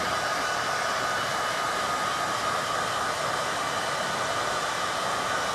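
A hair dryer blows on fresh paint on a table being refinished, a steady close, loud broadband whoosh of air that holds evenly throughout with no pauses or talk.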